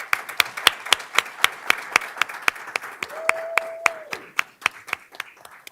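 A small audience at a board business meeting claps for award winners, with sparse, distinct handclaps and a brief steady tone partway through.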